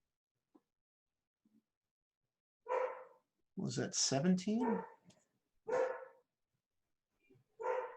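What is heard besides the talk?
dog barking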